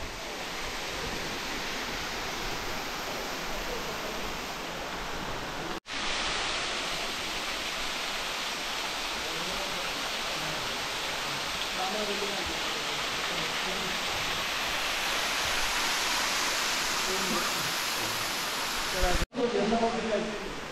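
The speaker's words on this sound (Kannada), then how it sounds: "ಎರ್ಮೈ ಫಾಲ್ಸಲ್ಲಿ ಹೀಗೆ ಬೇರೆ ಬೇರೆ ಕಡೆಯಿಂದ ನೀರು ಬೀಳ್ತಾ ಇರ್ತದೆ, ಇಲ್ಲಿ ಸಹ ಹಾಗೆ ಅಲ್ಲಿಂದ ಬೀಳ್ತಾ ಉಂಟು" A waterfall near the old stone Bheemeshwara temple, with water dropping from several points, makes a continuous broad rushing roar. The sound holds steady for the whole stretch, broken only by two brief cuts.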